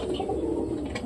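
A pigeon coos softly, a low murmuring call that runs steadily through the moment at close range.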